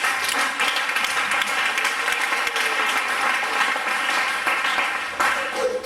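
A church congregation claps and applauds loudly in praise of the Lord, a dense, sustained wash of many hands that continues for several seconds.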